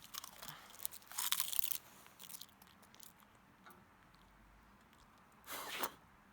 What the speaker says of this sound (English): I'm gonna eat this onion.